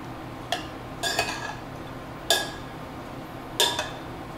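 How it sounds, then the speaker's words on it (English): A utensil stirs pico de gallo with corn in a bowl, making a few sharp scraping clinks against the dish, spaced irregularly over a quiet background. "I'm gonna give this a good stir."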